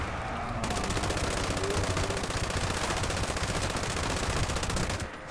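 Explosive light machine gun in the video game Fallout 76, firing one loud, rapid, unbroken burst of automatic shots for about five seconds before cutting off.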